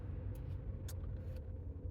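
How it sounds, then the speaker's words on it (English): Cars idle in a roadway traffic jam, a steady low engine rumble close by with a few faint brief squeaks on top and no talking. "Seems like here's a traffic jam."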